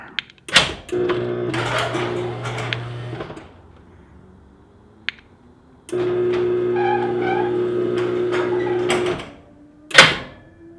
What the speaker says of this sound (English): Opening the door.